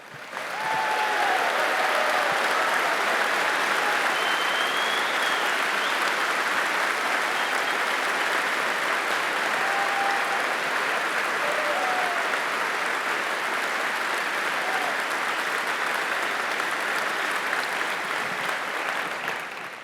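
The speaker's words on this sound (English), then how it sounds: "you folks give them a big round of applause?" A large keynote audience at Cisco Live 2025 in San Diego applauds in a big round, steady, dense clapping filling the hall for about twenty seconds with a few faint whoops and cheers rising above it.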